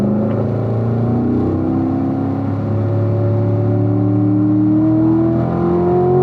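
A Chevrolet Corvette Grand Sport accelerates on the Spring Mountain racetrack in Las Vegas, its engine pitch climbing steadily through the gears, loud and close with a continuous droning roar and no talk.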